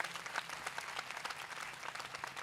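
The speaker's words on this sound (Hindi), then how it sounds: "आए जोरदार तालियां यीशु मसीह के लिए बजाएंगे" A church congregation at a Sunday prayer service claps together, a steady wash of many hands applauding at a distance, fairly faint and even throughout, with no talking.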